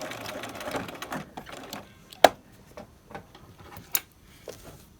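A sewing machine stitching in an invisible zipper, a soft rapid mechanical whirr at the start, then a few scattered clicks and taps.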